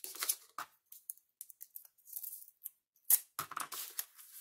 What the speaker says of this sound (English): Okay, put this tape down.